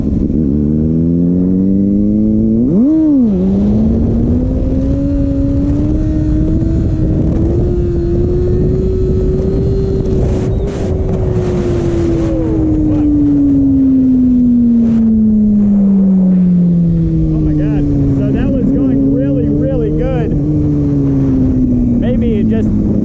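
A Kawasaki ZX6R motorcycle doing first-gear clutch-ups, its engine revving up sharply then holding a long sustained drone that slowly falls and rises again, loud and close under rushing wind, with a voice talking at times.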